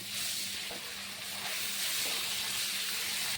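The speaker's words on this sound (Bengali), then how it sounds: "আমি বাটার দিয়ে দিচ্ছি আর পনিরটা ওই বাটারের সঙ্গে ভেজে নিচ্ছি" Paneer pieces frying in butter in a kadai give a steady, soft sizzling hiss that continues evenly without pause.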